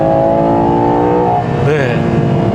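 A 2024 Ferrari Purosangue's engine climbs in pitch under kickdown acceleration, loud and close, then the tone shifts as it pulls harder. Someone talks over the engine throughout.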